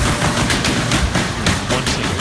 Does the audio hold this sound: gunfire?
yes